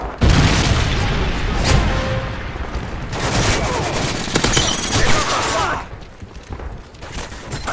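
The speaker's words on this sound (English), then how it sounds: "Predator missile inbound" A Predator missile strike in a video game brings heavy booming explosions and rapid gunfire, dense and loud for most of the span before easing near the end.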